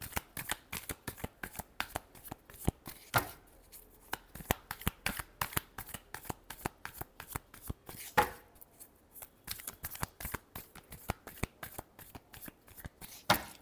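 Tarot cards shuffled by hand in a steady run of sharp riffling flicks and snaps, close and fairly loud, with brief pauses, no talking.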